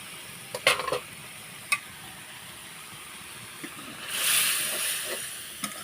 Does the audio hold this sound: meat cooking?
yes